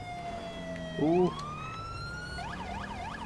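Wailing police siren from a patrol car in GTA 5 with the LSPDFR mod, a 2003 Chevrolet Impala, rising and falling steadily and shifting to a fast yelp near the end, with a brief vocal exclamation partway through.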